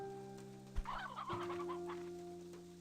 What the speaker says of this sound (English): Wait, do chickens eat things? Do chickens eat food?